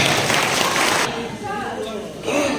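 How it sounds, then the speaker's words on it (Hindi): An audience at an evening gathering claps loudly to welcome a singer, a dense burst of applause that thins briefly midway before swelling again. "जोरदार ताली से स्वागत करें"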